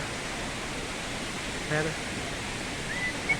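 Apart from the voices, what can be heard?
waterfall, strong rushing water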